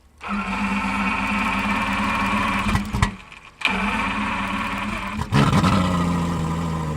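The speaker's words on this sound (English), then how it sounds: "This is the sound of a fishing boat motor being diagnosed for repairs." A fishing boat outboard motor runs steadily with a droning hum during repair diagnosis, briefly cutting out twice before restarting and revving back up, fairly close and loud.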